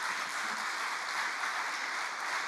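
A church congregation claps together, a steady wash of applause from many hands that holds at an even level from start to finish, with no voices standing out.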